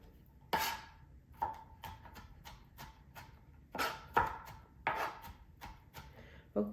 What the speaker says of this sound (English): I think I've got those chopped up pretty good, the garlic